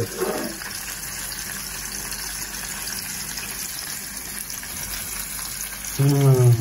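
Chanda (pomfret) fish frying in a pan, a steady broadband hiss and crackle of hot oil running throughout, with a louder burst near the end.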